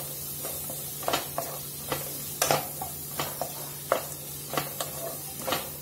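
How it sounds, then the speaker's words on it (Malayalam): Egg biryani ingredients are sautéed in a pan until golden: a soft, continuous sizzle runs under a dozen regular spoon scrapes and stirring strokes. "അപ്പൊ ഇനി നമുക്ക് ഇതൊന്ന് ഗോൾഡൻ കളർ ആവണ വരെ ഒന്ന് വഴറ്റിയെടുക്കണം കേട്ടോ"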